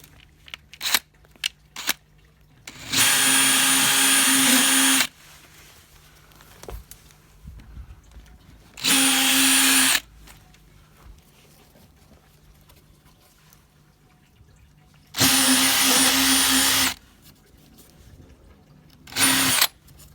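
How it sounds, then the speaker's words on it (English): A drill fitted with a countersink bit tidies the edges of holes in a window frame, running in four loud steady bursts of about one to two seconds each, separated by quiet pauses with faint clicks. "I don't know what you call this tool, countersinker, or it just helps to tidy up this outer edge here."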